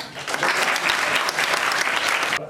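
An audience at a school prize-distribution ceremony breaks into brief, dense applause, many hands clapping close together at steady volume before cutting off sharply.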